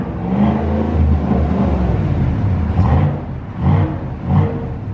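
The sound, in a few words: 2019 GMC Sierra Denali with cat-back performance exhaust revving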